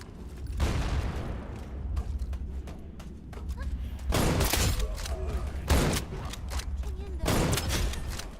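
Shots ring out in the Wild Assault video game, heavy bursts of gunfire arriving in several loud clusters with thuds and booms between them, near and punchy, under scattered game voices.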